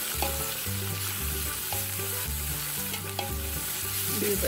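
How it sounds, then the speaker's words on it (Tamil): Chopped onions sautéing in a pan on a wood-fired stove for chicken biryani, a continuous close sizzle over a recurring low tonal hum, no voices. "ஆனியன் கட் பண்ணி வச்சுருக்க ஆனியனை வந்து சேர்த்துக்கிறேன். சேர்த்து அதையும் நல்லா வந்து வதக்க போகிறேன்"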